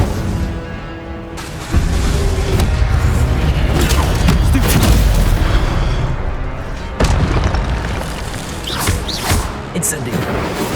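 Booming fire-spell blasts from the Incendio charm in Hogwarts Legacy on PS5, a loud, rumbling explosion swelling mid-clip with further bursts, mixed with shouted voices and game effects.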